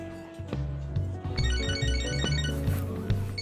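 A phone rings in the video game Catherine Full Body, a bright repeating electronic ringtone melody with short pulsing tones over a low musical backing, loud and close with no talk.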